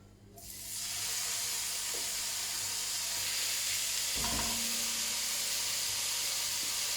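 Onions, garlic, ginger and chillies for a beef phall hit a hot pan, giving a sudden thump then a steady, loud broadband sizzle and hiss that continues without a break.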